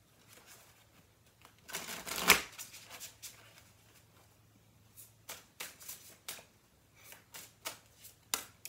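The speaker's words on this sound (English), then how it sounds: "Let me get you a couple of Witches Familiar cards." Witches Familiar tarot cards are shuffled close by, with one louder riffle followed by a string of soft, evenly spaced flicks and taps in a quiet room.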